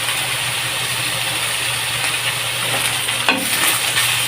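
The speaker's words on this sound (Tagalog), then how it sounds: "Mix lang natin para kumapit yung pampalasa." Pork paksiw na pata is stirred in a pot with vinegar, whole peppercorns and spices, a steady loud sizzling and scraping churn running throughout with a brief clatter near the end.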